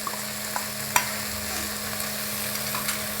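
Poppy seed paste stirred and fried with masala for Bengali chingri posto, a steady low sizzle with soft scraping stirs and one sharper clink of the spoon against the pan near the start.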